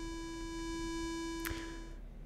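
A steady sine-wave tone feeding an amplifier, holding constant and loud with a faint hum beneath and one brief click-like burst near the middle.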